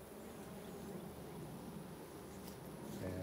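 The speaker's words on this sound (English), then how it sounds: "So this is what a collateral hive looks like. See the bees? They enter through this end," Honey bees buzz around the entrance of an inline hive with brood and honey boxes, a faint continuous drone under quiet outdoor ambience, with a brief louder rustle near the end.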